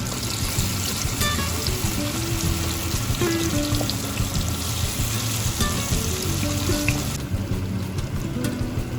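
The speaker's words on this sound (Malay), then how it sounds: "Goreng keledek dalam api yang betul-betul panas." Steady sizzling and crackling of battered sweet potato frying in very hot oil, a continuous bubbling hiss with occasional pops, close up.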